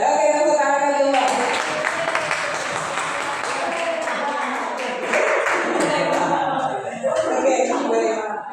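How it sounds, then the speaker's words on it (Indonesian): A crowd of teachers and students claps in a school classroom in Boyolali. A burst of applause starts after a second and runs on steadily under people talking. "tepuk tangan dulu Pak"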